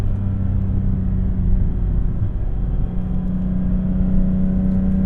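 A 2006 Lexus IS350 drives along, its engine heard from inside as a loud, steady low drone with a strong engine hum and road rumble. Nobody speaks.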